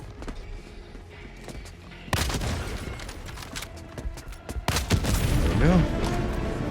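An Eruptor rifle fires in Helldivers 2 during an Illuminate invasion, with heavy explosive shots booming out and a louder blast and rumbling debris following, all under a voice talking.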